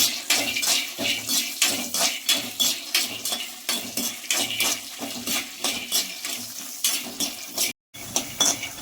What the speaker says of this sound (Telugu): ఈ విధంగా అయితే దోరగా వేగాలండి పప్పు.